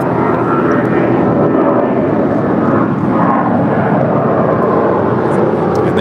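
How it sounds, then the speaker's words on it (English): Asiana Airlines Airbus A350-900 coming in to land at LAX, a loud steady jet engine roar lasting throughout with no break, heard alongside people talking. "we're looking at Asiana Airlines flight 2047 coming in from Seoul"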